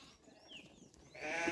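Sheep bleating on a farm, a ewe with her first lamb nearby: a faint, wavering bleat early on, then a louder, closer bleating burst near the end.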